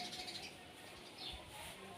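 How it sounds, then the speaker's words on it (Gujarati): Sparrows chirp in short high tweets at midday, a few scattered calls over a faint outdoor background. "ખરા બપોરે કેટલા બધા આમ ચકલા"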